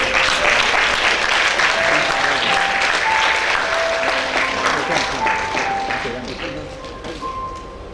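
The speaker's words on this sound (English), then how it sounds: "Let's give them a hand of applause" A church congregation applauding a newly married couple at a wedding ceremony, dense sustained clapping that gradually fades, with voices talking underneath.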